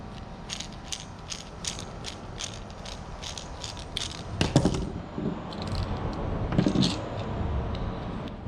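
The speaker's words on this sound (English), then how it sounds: "Okay, so we have to take out the screws." A screwdriver takes screws out of a shop light: rapid, evenly spaced ratcheting clicks, then louder metallic clunks and rattles as parts are handled, all close by.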